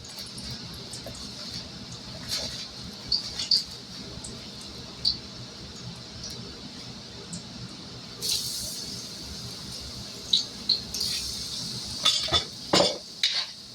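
Food stirred in a batch of hot frying grease, giving a steady low sizzle with scattered utensil scrapes and clinks against the pan, and a cluster of sharper clatters near the end.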